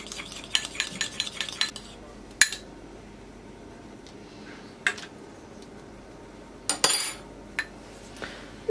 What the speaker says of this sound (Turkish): İyice çırpıyorum.